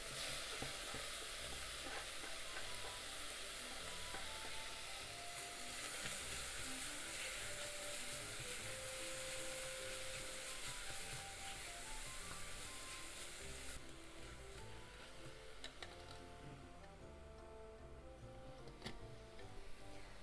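Spinach and bacon fry together in a pan, giving a dense, continuous sizzle with faint crackles and stirring ticks, close and steady throughout without any voices.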